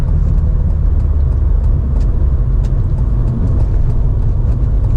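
A 2004 BMW E46 318i engine pulls hard under kick-down acceleration, a steady loud low rumble that holds constant throughout with no voices over it.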